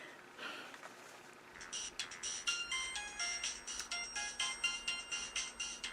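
A phone plays a bright, chirpy electronic ringtone while a call is placed, repeating in a quick pulsing pattern that starts after a short pause and continues steadily, near and moderately loud with no voices.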